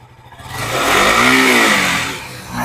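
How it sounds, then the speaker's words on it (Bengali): A modified 2023 KTM Duke 100 motorcycle engine at a bike showroom revs up from idle to a loud, sustained roar, then drops back before a second blip at the end. "গাড়ি এখন ইঞ্জিন স্টার্ট হয়ে আছে ম্যাম একবার আওয়াজ করে বন্ধুদের শোনাও"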